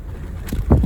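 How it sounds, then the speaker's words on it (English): Wind buffeting the microphone with low rumbling gusts outdoors in the desert ghost town of Rhyolite, Nevada, near Death Valley, growing stronger toward the end of the very short clip. "It's really windy."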